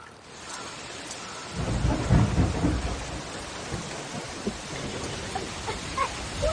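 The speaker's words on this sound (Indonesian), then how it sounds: "Hujan udah." Thunder rolls in a deep, loud rumble as rain begins falling in a riverside Banjarmasin setting, followed by a steady patter of raindrops with scattered louder drips.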